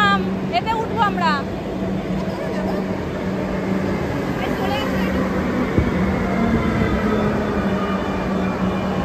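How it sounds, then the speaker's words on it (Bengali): Train pulling into a station platform, a steady loud rumble with a sustained hum and rattling wheels throughout, while a child and adults chatter over it. "আমাদের ট্রেনও আসছে মাম্মা, এতে উঠবো আমরা"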